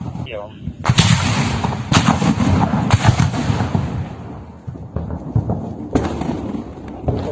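Heavy booming cannon blasts from a tank on the front line near Bakhmut and Soledar, Ukraine, several loud shots spaced a second or so apart, echoing over a rumbling outdoor background.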